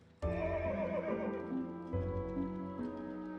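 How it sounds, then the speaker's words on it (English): A horse whinnies loudly and alone in the video game Fire Emblem Echoes: Shadows of Valentia, a sustained, wavering neigh that rises and then trails off over a few seconds. "A horse?"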